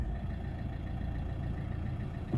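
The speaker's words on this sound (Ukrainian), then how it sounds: "Отак, заводиться автомобільчик." A steady low diesel engine rumble idles continuously, close by, with no voices over it; a 2012 Renault Megane III with the 1.5-litre K9K diesel.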